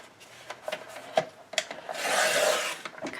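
Scrapbook paper being trimmed to a 9 by 9 inch square, with a few short scraping strokes and then a longer rasping slide of the blade, close and fairly quiet with no talking.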